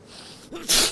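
A single sharp, loud human sneeze bursts out near the end, preceded by a faint intake of breath over quiet room tone, recorded close to the microphone during a live stream of the game DayZ.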